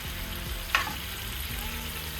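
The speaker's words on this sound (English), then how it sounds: "I'm going to add some butter, and I'm gonna add my onions. So I'm just gonna cook that over here." Onions frying in butter in a pan, a steady close sizzle with a brief stirring scrape, no voices.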